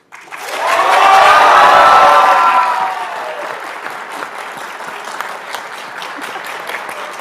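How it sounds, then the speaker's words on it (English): Students from a Long Beach high school cheer for engineering at a national engineering meeting, a loud crowd shout swelling and fading within a few seconds, then settling into steady applause. "I'd like to welcome students from Cabrillo High School in Long Beach to give a cheer for engineering"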